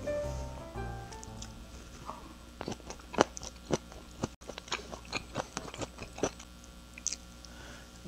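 Someone eats boiled squid salad (muchim-hoe) mixed with vegetables such as minari at a restaurant in Daegu, with close, repeated soft bites and wet chewing crunches in an irregular rhythm and no talking.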